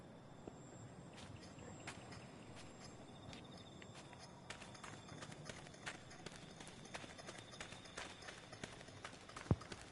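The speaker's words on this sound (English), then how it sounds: "See, it sounds like I have two sets of footsteps." Two sets of footsteps in an asylum horror video game, a faint, irregular patter of steps over a low ambient hum, building toward a sharper knock near the end.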